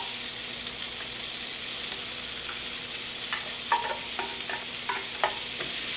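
Diced onions fry in a pan with a steady, bright sizzle throughout, and a few light clicks and scrapes of stirring near the end.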